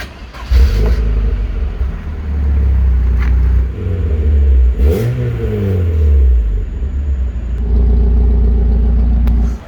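A Rover 25 1.4 engine revs up loudly and repeatedly, rising and falling in pitch with a strong low rumble, steady between bursts and close to the listener.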